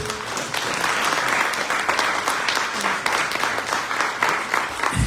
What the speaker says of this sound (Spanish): ¿Quién puede darle un aplauso al Señor por eso?